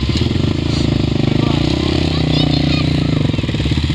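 A Yamaha YZ250 two-stroke dirt bike engine running at the Glenrock Dunes, a loud, steady rattling idle close by with voices talking over it.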